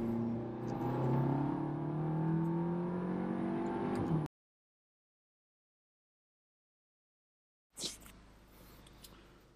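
A tuned 2016 VW Golf R MK7 accelerating at full throttle in third gear from about 35 mph onto an interstate, engine note climbing steadily for four seconds before cutting to silence, then a short burst of noise.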